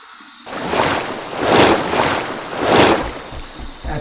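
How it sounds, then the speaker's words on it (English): Warm water splashes onto a face during a rinse after a shave with a Gillette Heritage razor and blue blade, three close surging bursts of splashing and dripping after a quiet start. "Here's my warm water rinse to get rid of this excess slickness."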